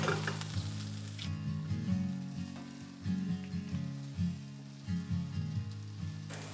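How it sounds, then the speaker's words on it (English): Broccolini and green onions sauté in a hot pan for a Chinese veggie chow fun, giving a steady close sizzle with bursts of stirring and tossing. "Saute for 2 to 3 minutes. Broccolini and green onions."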